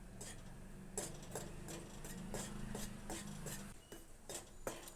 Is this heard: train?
no